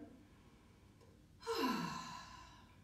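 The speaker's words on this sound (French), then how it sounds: "on va d'abord prendre une grande respiration" One deep breath, drawn in and let out during a calm relaxation exercise, rises abruptly after a near-silent pause, then fades slowly. It is close and alone.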